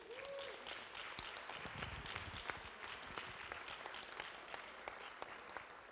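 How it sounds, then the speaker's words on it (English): Audience applause at a joyful afternoon gathering of spirit and song supporting Living Mussar, a steady wash of clapping from a room full of people that holds at a fairly even level for the whole stretch. "let's give them a round of applause"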